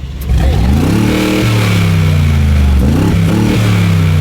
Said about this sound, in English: Let's go through each car and kind of hear how they sound. Let's start with the G63 AMG.